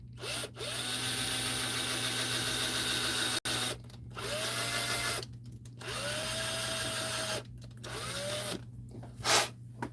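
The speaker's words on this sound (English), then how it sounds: "I'm gonna drill a hole in this again" Power drill boring a hole, a close whining motor that runs in several long bursts, rising in pitch as it spins up, broken by short pauses between pushes, with no talk.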